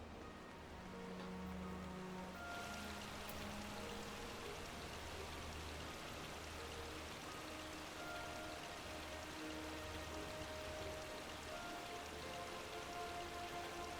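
Steady rain patters down in Final Fantasy XIV while fishing, a dense, even hiss of drops on surfaces that runs unbroken throughout, with soft tonal game music threaded faintly underneath.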